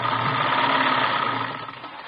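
A sewing machine stitches ruffles on a dress, giving a steady, continuous mechanical whirr at close range that holds level before easing off slightly near the end, with no talking.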